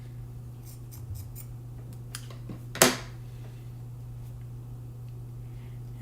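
Scissors snip off excess fabric during a sewing alteration, giving one sharp close cut over a steady low hum, with a few soft handling taps just before.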